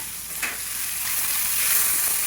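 Onion, tomato and ridge gourd fry in a pan with salt and a pinch of turmeric, giving a steady close sizzle with faint stirring scrapes throughout.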